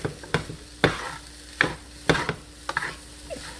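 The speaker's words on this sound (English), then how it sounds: "Keep stirring it." A utensil stirs food frying in a pan at home, giving scraping strokes over a soft sizzle, about half a dozen close, irregular scrapes.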